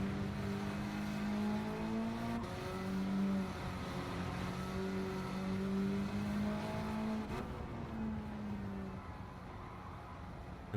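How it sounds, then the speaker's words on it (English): A car engine in Gran Turismo 7 holds a steady, high rev with a smooth whine that rises and dips slightly, continuous and moderately quiet throughout. "Gotta rev it out. Revving it out gives this car that bit more speed."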